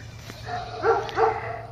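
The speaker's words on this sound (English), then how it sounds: "We have a dog in there, and they're all piled up on the dog." A dog gives a couple of short barks indoors in a busy family home, close by and fairly loud, over a low steady background hum.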